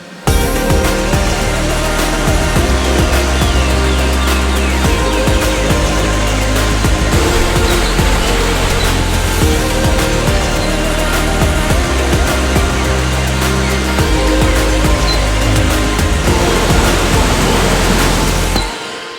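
Roaring waterfall at El Aguacate in the Huasteca Potosina, Mexico, a loud continuous broadband rush of falling water that holds steady throughout with no voices.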